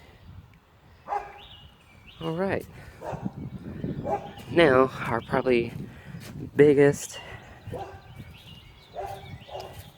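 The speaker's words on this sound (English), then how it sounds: "Sorry about the dogs next door barking." Dogs next door bark in the background while a person talks over them, the barks coming in short bursts throughout.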